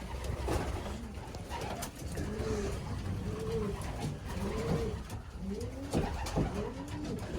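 Racing pigeons coo repeatedly in soft, throaty phrases, several birds overlapping close by over a steady background murmur.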